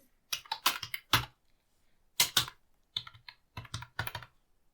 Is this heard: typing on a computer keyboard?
yes